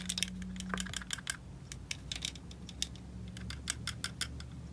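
Cheap Ray-Ban-style sunglasses handled up close, with the plastic frame and hinges giving quick, light, irregular clicks and snaps, scattered in small clusters over a quiet background hum.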